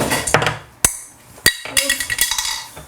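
A plastic toy wrench from a toy tool play set clatters and knocks during play, giving several sharp separate impacts and light rattles, close and fairly loud.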